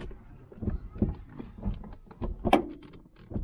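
Door check strap on a Citroen DS4 giving a series of clicks and thunks as the door is swung, close and fairly quiet with no talk.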